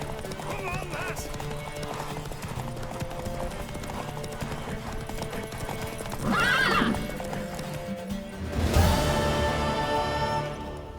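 In The Witcher 3, horse hooves clop steadily over a busy background with voices, and a loud whinny rings out partway through before the galloping swells.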